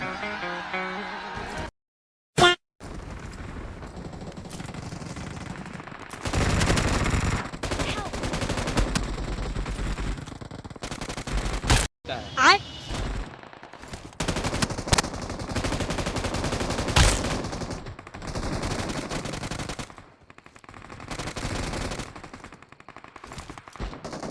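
Rapid automatic gunfire bursts in the mobile battle royale game BGMI (PUBG Mobile), loud and dense across a long stretch with brief gaps, mixed with game sounds and occasional talk.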